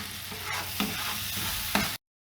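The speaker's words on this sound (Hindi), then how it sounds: "अब ये इसमें मैं ये टमाटर की पेस्ट डाल दूंगी।" Tomato paste hitting softened onions and green chillies in a hot pan for foul mudammas, a steady loud sizzle broken by a couple of sharp scraping stirs, then cutting off abruptly.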